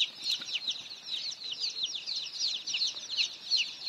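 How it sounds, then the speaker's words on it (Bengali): Day-old layer chicks chirp constantly in a brooding shed, a dense, continuous chorus of high peeping from many birds close by, with no talk. "মুরগির বাচ্চাগুলো।"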